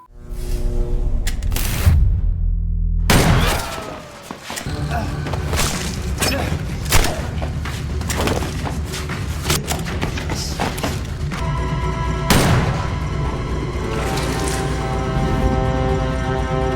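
Heavy bursts of gunfire with loud booming shots and thuds, crowded and continuous, sounding like a chaotic close-range shootout from the series A Killer Paradox, with music or rumble underneath.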